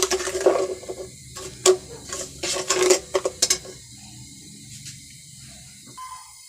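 A spoon stirs almonds and pistachios with sugar roasting in a pan over low heat, giving irregular close clinks and scrapes for a few seconds before fading to a quieter steady background.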